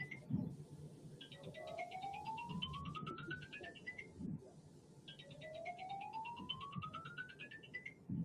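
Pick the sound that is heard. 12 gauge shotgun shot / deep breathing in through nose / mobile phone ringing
mobile phone ringing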